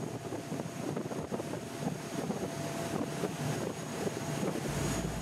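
A steady, low rumble of a Princess S78 motor yacht's twin MAN V12 1900-horsepower engines mixed with rushing wind and water noise, continuous and moderately loud throughout.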